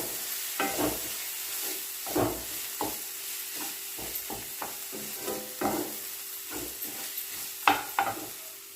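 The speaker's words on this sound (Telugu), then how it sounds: "అల్లం వెల్లుల్లి పేస్ట్ వేసుకొని పచ్చివాసన పోయేంత వరకు కలుపుకోవాలి." Ginger garlic paste stirred in a pan, a soft steady sizzle broken by repeated scraping strokes of a spoon at an uneven rhythm.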